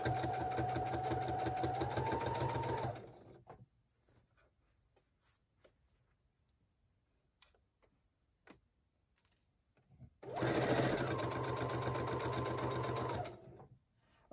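A sewing machine runs in two steady bursts while stitching a dress shirt sleeve placket, close and loud, separated by a quiet pause with faint handling clicks.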